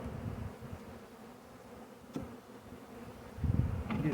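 A honey bee swarm buzzing during a hive install into a box with a screen top: a low, continuous hum at modest level with a few louder swells and knocks near the end.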